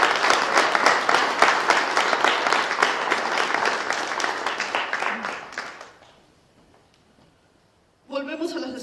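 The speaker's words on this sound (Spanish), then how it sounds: "Démosle un aplauso a nuestro Dios." Church congregation applauding, a dense, full clapping that runs steadily for about six seconds, then fades into near silence before a voice starts speaking at the end.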